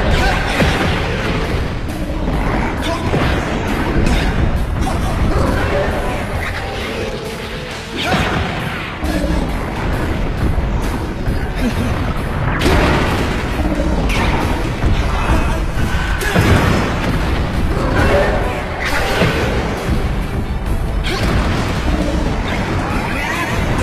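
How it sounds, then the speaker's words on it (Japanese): Loud, dense battle din from an Ultraman R/B fight scene: a back-mounted cannon fires amid repeated crashes, whooshes and explosions, layered with a busy score and occasional voices throughout. "イサミは背中の大砲を"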